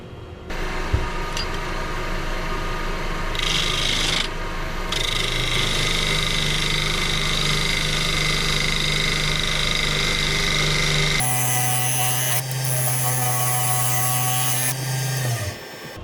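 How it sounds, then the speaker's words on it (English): A wooden bowl being trued up on a woodturning lathe with a ball gouge: a steady motor hum with tonal whine and rough cutting noise throughout, shifting pitch partway through, close and continuous. "we'll get this trued up. I'm going to actually use my ball gouge today."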